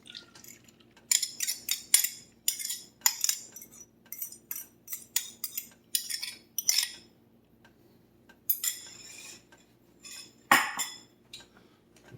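Eggs for an omelette being beaten with a utensil in a bowl: bursts of quick, bright metallic clinking repeat in short rhythmic runs with pauses between, close up and with no talk.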